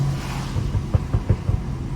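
A BMW engine burbles during a downshift, a low rumble with a short run of rapid, uneven thumps and pops, heard from inside the car without talking.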